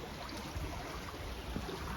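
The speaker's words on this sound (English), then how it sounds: "Oh, and the stream comes through here." A stream of water flowing through a winter forest, a faint, steady wash and gurgle heard at a distance, with no one talking.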